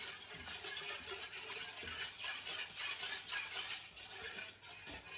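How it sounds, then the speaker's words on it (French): A whisk stirs through broth for a fish blanquette, making a continuous soft swishing and light scraping in the pot at low level, with faint sizzle underneath and nobody talking. "je prends mon fouet,"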